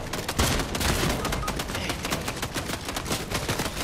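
Rapid bursts of gunfire crack in Fortnite, dense and loud close-up shots in quick succession throughout, with no clear talking.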